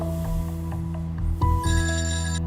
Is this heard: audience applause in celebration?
no